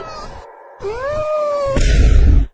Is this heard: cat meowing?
yes